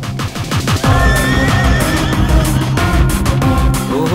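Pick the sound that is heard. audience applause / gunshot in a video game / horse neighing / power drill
horse neighing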